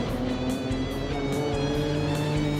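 Speedcars race in a 50-lap classic, engines droning loudly and steadily with a high whining tone as several cars roar around the track together, no commentary audible.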